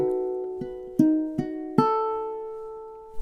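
Ukulele notes picked one after another in a slow, uneven rhythm, each ringing and overlapping into a sustained chord, close and clear with no voices.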